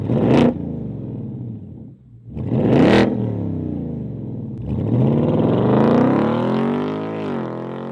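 Revving of a 2024 Ford Mustang 5.0L fitted with a Flowmaster Outlaw axle-back stainless exhaust, with sharp throttle blips followed by longer rising and falling roars, loud and close, no talking.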